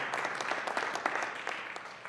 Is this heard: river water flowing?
no